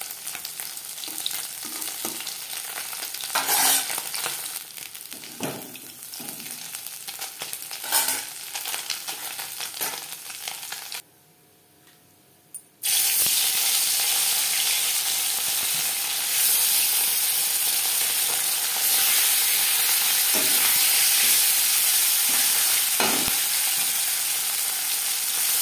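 Bele fish fry in hot oil in a wok for a mustard curry, a loud continuous sizzle and hiss broken by stirring clatter, a brief quiet gap, then sizzling resumes stronger.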